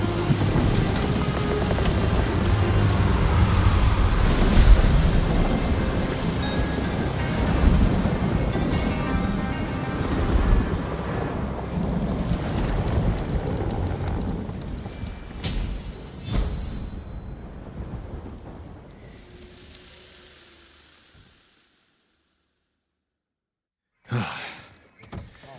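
Thunderstorm in the Ghost of Tsushima game: steady heavy rain with rumbling thunder and sharp lightning cracks, fading to near silence before a final burst, with no talk.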